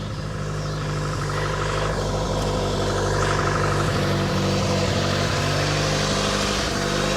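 A 1985 Honda Accord engine idling rough, a steady, loud, close mechanical drone with a low rumbling hum that continues without a break.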